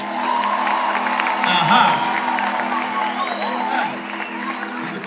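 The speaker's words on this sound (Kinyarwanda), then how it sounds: "Munyemerera tugahuza ibiganza tukamukomera amashyi." Audience applause fills a church gathering, a steady mid-level clapping and crowd noise lasting throughout, with a voice speaking briefly over it.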